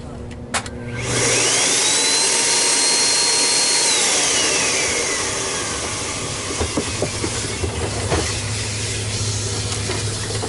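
A Miele Compact C2 Electro+ vacuum cleaner motor runs with only half its insulation fitted, a loud steady roar and hiss rising as it spins up and then holding, with a few faint knocks.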